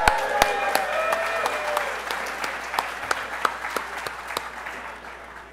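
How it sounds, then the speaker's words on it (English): An audience at the skippers' briefing for the 2015 Race to Mackinac sailing race applauds steadily through the room, a dense wash of clapping with a few sharper nearby claps standing out and faint voices underneath. "So please give yourselves a big round of applause."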